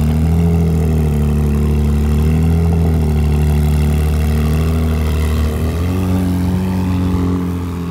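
Ferrari 458 engine idling and pulling away for a test drive on a Monaco street: a steady low throaty drone with a slight shift in pitch near the end, loud and continuous.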